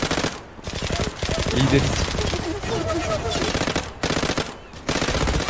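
Rapid submachine-gun fire from an Uzi in a shooter video game, dense bursts running nearly throughout with short gaps, loud and close, with a voice speaking briefly over it.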